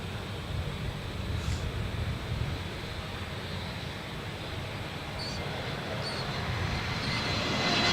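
A Jetstar airliner coming in to land at Adelaide Airport, heard as a steady, fairly distant jet roar with some wind that swells slightly toward the end.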